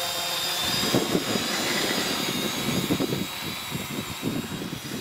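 Thunder Super QQ electric model aircraft in flight, a steady high motor whine with softer pulsing swells as it passes, moderately distant and with no voices.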